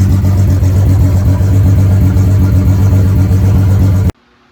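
Volkswagen Jetta GLI idling nearby with a loud, steady mid-pitched engine hum and exhaust drone, the engine puffing small bursts of smoke, cutting off abruptly near the end; no talking.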